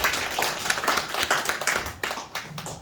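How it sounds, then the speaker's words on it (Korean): Audience at a Cheonho-dong street housing redevelopment briefing applauds to welcome a former Seoul city councillor, a dense patter of hand claps from a modest crowd that holds steady then thins toward the end. "박수로 맞아주십시오"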